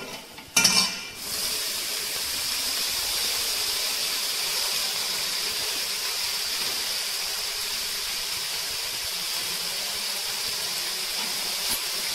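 A brief clatter of a utensil against a pan, then a steady sizzling hiss of red amaranth greens sautéing with turmeric and salt, continuous and close.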